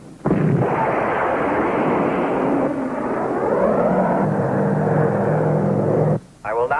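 A loud, continuous roaring rumble of a rocket launch sound effect bursts in after a spoken countdown, holding steady for about six seconds with a shifting, swelling texture before cutting off abruptly.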